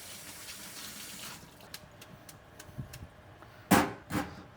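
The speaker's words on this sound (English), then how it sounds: "Run this under some cold water." Cold tap water runs steadily over salad greens in a fine mesh strainer, a soft continuous hiss with a few louder splashing gushes near the end.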